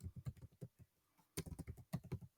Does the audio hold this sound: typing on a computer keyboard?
yes